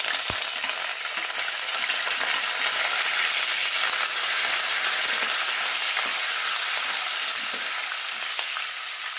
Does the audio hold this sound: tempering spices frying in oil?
yes